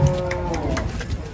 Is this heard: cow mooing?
yes